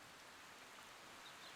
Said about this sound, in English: Oh, this fucking rain. It's horrendous weather.